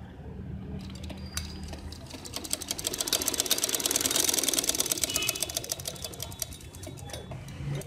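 Stitching a lace neckline with buttons, a sewing machine runs steadily and close up, its rapid mechanical chatter swelling slightly in the middle before easing back, with no voices over it.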